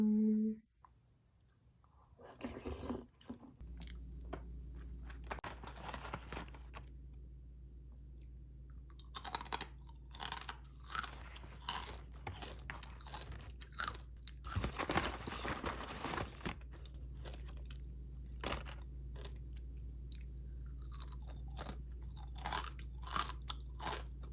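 Close, crunchy chewing of a mud scone with almond milk poured over it: repeated bites and crisp mastication clicks come in irregular bursts over a quiet room hum, with no talking.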